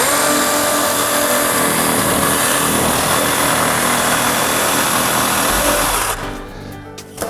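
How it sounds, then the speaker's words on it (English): Jigsaw cutting through a faux brick wall panel, a loud continuous buzzing rasp that runs steadily for about six seconds, then stops abruptly with a few faint clicks and handling noises. "I'm going to go ahead and just use a jigsaw to cut off the square part here"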